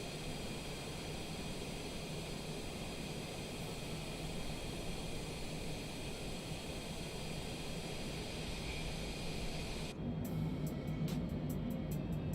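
Airliner engine noise during a flight from Sacramento to Denver: a steady, even, broadband roar throughout, with a slight shift and faint rhythmic ticking near the end and no voices.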